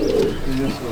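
A green Dobaz pigeon coos in a loft, a soft low throaty coo close by that rises and fades within a second, with faint background noise and no talk.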